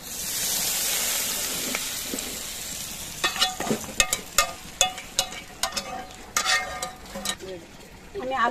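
Hot oil left from frying onions sizzles loudly as it is poured over raw meat for kacchi biryani, a steady hiss that breaks into sharp crackling bursts partway through.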